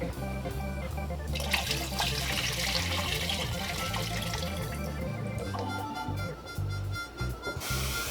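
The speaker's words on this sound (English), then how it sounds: "Gonna add some water into this." Water streams steadily into a cooking pot of butter beans and smoked turkey wings for several seconds, a continuous splashing pour with background music underneath, easing off near the end.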